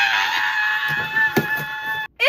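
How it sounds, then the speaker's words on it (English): A person screams with excitement, a loud, close, sustained high-pitched shriek lasting about two seconds. It wavers slightly and is cut off abruptly, followed by a short burst of another sound. "I am going to scream"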